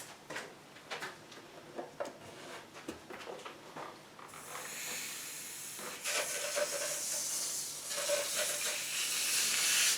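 A steam iron hisses against the wooden ribs of an ES-335-style guitar body to lift small dents. Light taps come first, then a loud, sustained hiss that swells and continues to the end.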